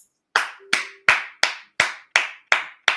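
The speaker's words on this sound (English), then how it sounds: "I got to applaud that statement" Eight sharp hand claps from a single person, evenly spaced and close, ringing alone with a faint brief tone behind the second and third.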